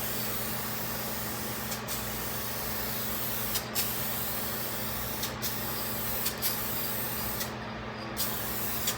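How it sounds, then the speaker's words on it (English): Spray paint from an aerosol can being applied to a car headlight on a 2009 Honda CR-V, a steady close hiss broken by a few brief pauses. "the spray paint currently works, so I'm going to go ahead and apply the paint safely"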